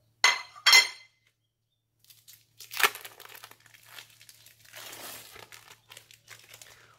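Two sharp crinkly bursts of plastic wrapping come first, then softer rustling and peeling of the thin plastic wrapper off a cheese slice, close and quiet.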